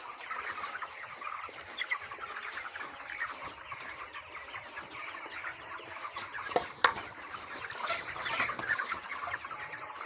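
A flock of farm chickens raised for market makes a constant busy clucking and chatter, a dense crowd of birds heard fairly close but at modest volume throughout, without talk.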